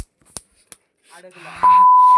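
A phone gives a steady, loud electronic tone at the end, after scattered clicks and faint outdoor sounds on a hill trek.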